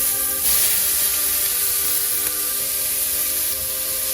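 Onions and garlic hit a hot stew pot with a loud, continuous sizzle that starts abruptly and holds steady without talking.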